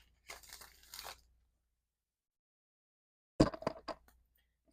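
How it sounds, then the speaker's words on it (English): A deck of tarot cards being shuffled in two quick, crisp riffling bursts separated by a few seconds of silence, close and fairly quiet. "let's do one more shuffle"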